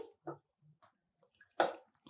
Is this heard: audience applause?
no